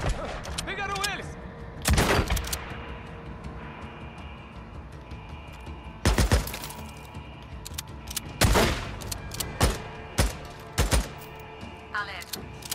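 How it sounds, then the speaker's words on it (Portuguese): Gunfire in the zombie survival game Days Gone, a series of sharp loud shots scattered across the clip over a steady game background, with a voice talking now and then. "Vários disparos identificados."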